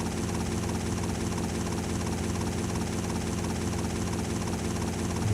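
A helicopter flying in the video game GTA: Vice City Stories, with a steady, loud rotor and engine drone that runs without a break and no voices over it.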